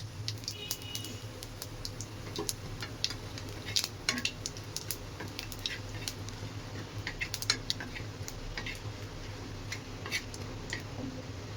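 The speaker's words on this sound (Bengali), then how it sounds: "অল্প করে জিরে তেলের মধ্যে দিয়ে দিতে হবে, তারপরে একটা শুকনো লঙ্কা" Cumin seeds and a dried chili sizzle in hot oil in a pan, a soft continuous frying hiss dotted with sharp pops and occasional utensil clicks, quiet and close.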